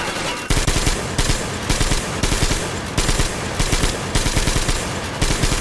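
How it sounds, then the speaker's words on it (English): Gatling gun fired in the video game Metro Exodus, loud continuous rapid bursts of gunfire in repeated volleys separated by very short pauses, no talk. "Let's have some fun with the Gatling gun"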